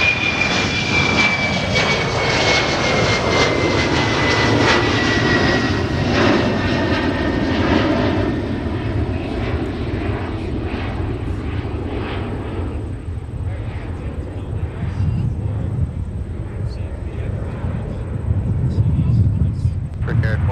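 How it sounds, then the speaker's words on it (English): An Atlas Air Boeing 747 departs MSP airport with loud jet engine roar and a high whine that fades away, with voices and radio talk partly over it. "we have Atlas Air. We'll be departing here within the next couple of minutes with the 747"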